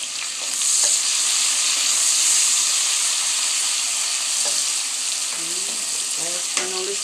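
Garlic, sweet pepper and scallion fry in a pan with a steady, bright sizzle and hiss throughout, joined by occasional scraping stirs and a few knocks of a utensil toward the end.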